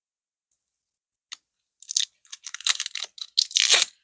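Packaging of a Z Beauty eyelid primer tube being opened: a few faint isolated clicks, then a burst of close, crackly plastic crinkling and tearing, loud and alone with no talk.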